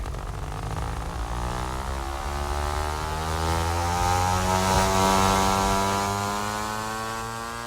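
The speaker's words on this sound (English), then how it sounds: "just give it some power here and we'll take off" A model airplane engine in the RealFlight 5.5 flight simulator throttles up for takeoff, a steady droning whine whose harmonics climb as the power builds, loud and continuous with no talk.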